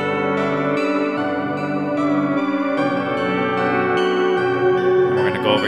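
A sustained, bright synthesized guitar loop made in FL Studio with the pluck removed: smooth, pad-like notes and a thick harmonic texture, loud and continuous with no sharp attacks.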